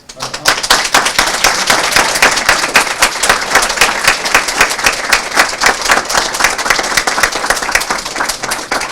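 Sustained applause from a large crowd at a high school graduation ceremony, dense steady clapping for about nine seconds with a few cheers mixed in.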